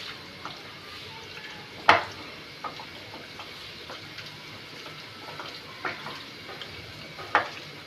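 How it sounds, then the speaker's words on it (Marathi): Chicken biryani masala with ginger-garlic paste being stirred in a pan: a quiet, low sizzle broken by a few sharp spoon scrapes and clinks against the metal. "यामध्ये 2 टेबलस्पून आलं लसूण पेस्ट पण टाकणार आहे मी आणि परत याला मिक्स करून घेते"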